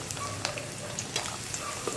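Chopped onions and shallots sizzle in hot coconut oil, a soft steady crackle with small pops and light stirring scrapes, alone and close.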